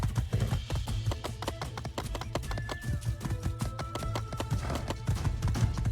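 Horse hooves clip-clop at a quick, steady trot in the video game My Time at Sandrock as the animal trails the player, the dense regular taps continuing over soft tonal game music.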